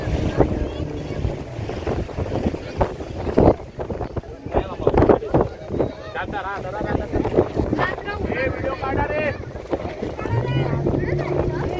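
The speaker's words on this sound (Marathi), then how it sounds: "आता हवा यायला लागली" Steady wind blowing across a beach in Goa, with a low roar and microphone buffeting under continual talk and surf in the background.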